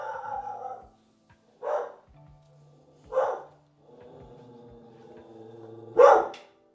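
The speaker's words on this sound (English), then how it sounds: "can you not bark, please?" A pet dog gives three separate sharp barks spaced a second or two apart, fairly close, in a quiet indoor room with a faint hum in between.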